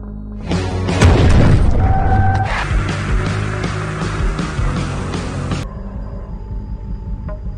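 A loud, booming crash hits hard and fast as a car strikes a teenage girl, followed by a lingering, rumbling aftermath with scattered clatter.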